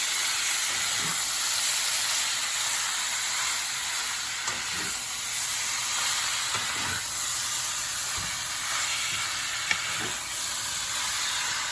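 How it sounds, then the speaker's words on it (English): Lean skirt steak cooking in a wok over medium-high heat gives a steady, dense sizzle and hiss throughout, with occasional soft clicks and knocks of stirring, close and constant with no voices. "I'm just gonna put it into the wok"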